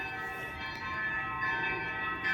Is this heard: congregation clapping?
no